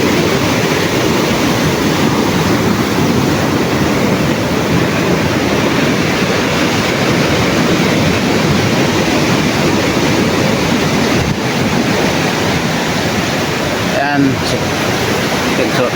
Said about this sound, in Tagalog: Dahil sa sobrang laki ng alon mga katropa,